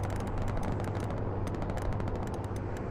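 Rapid machine-gun fire from a strafing run in the Hell Let Loose video game, a dense stream of sharp bursts with rumbling impacts, loud and continuous.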